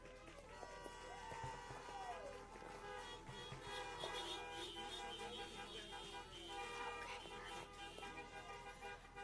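Many car horns honk and toot at once in a noisy overlapping chorus, with crowd noise underneath, from a studio audience at a Veterans Day luncheon.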